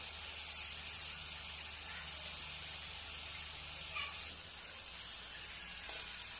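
Fenugreek leaves and spring onion greens cooking in oil over a high flame give off a steady, even sizzle and hiss, close and fairly loud, with no voices.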